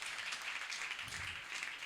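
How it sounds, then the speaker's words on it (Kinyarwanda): A church audience applauding with a dense, steady patter of many hands clapping, moderately loud and sustained without pause, with no voices standing out. "tumukomana amashyi menshi cyane meza"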